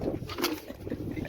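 Pigeons coo softly in a loft in a brief low burble, with a faint patter of movement around them.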